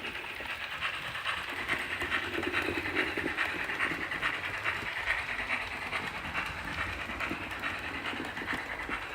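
A railway locomotive with 8-foot driving wheels running, a steady, moderately distant rumble and hiss with a faint rhythmic pulse throughout.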